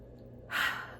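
One deep breath drawn in close to the microphone, a short, soft airy inhale that swells and fades within a second against near silence.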